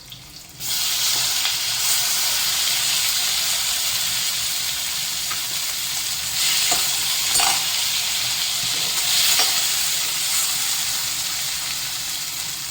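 Two medium onions and three tomatoes fry in a pan for paneer butter masala, giving a steady, close sizzle with soft hissing and occasional stirring clicks.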